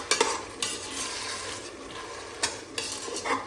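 Peas and tomato puree stirred in a pan for tomato rice: a soft wet scraping and sizzle with a few sharper spoon knocks against the pan, close and alone.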